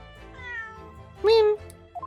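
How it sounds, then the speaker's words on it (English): A cat meows from a machine in the Great Ace Attorney video game: a soft murmuring lead-in followed by one clear, rising-falling meow, close and distinct, with a tiny chirp at the end. "Meow."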